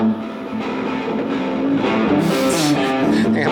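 Electric guitar through a BOSS GT-1000 with a reverse effect and delay, swelling notes blooming backwards and smearing into each other, steady and fairly loud throughout.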